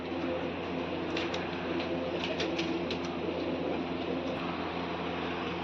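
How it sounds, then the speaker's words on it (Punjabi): Soft, low pigeon cooing repeats against a constant mechanical hum, with a few faint higher chirps scattered through. "ਕਬੂਤਰੀਆਂ ਆਉਂਦੀਆਂ ਆ ਬਾਈ ਸਿਰ ਤੇ"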